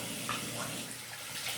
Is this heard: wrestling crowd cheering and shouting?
no